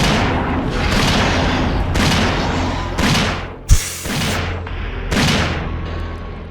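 Heavy shotgun blasts fire at a boss in Resident Evil 3: Face the Nemesis, several booming shots roughly a second apart with a sharp crack midway, loud and close, with no talking.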